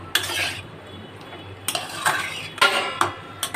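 Boiled potatoes stirred into a cooked spice mix with a metal spoon in a pan. Loud scraping strokes come in short bursts with pauses between them, and a soft sizzle sits underneath.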